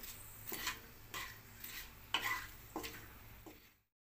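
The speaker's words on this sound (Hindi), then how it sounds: "इलायची, लौंग और 2 लाल मिर्च। अब हम इनको अच्छी तरह से फ्राई कर लेंगे।" Cardamom, cloves and two dried red chillies fry in a pan for dhaba-style dum aloo, heard as faint, regular spatula scrapes roughly every half second over a low, soft sizzle, with no talking.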